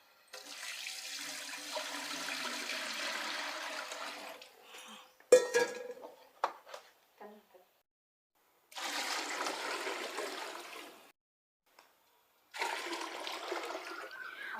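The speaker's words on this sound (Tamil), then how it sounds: "இதில் 3 பங்கு தண்ணி வைக்கணும்." Water poured from a vessel into a large cooking pot for sambar rice being made from three kilos of rice, coming in three long broadband gushing bursts separated by clinks and pauses.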